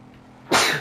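A single sharp, breathy burst erupts after a brief quiet stretch, like a sneeze, loud and close, trailing off quickly.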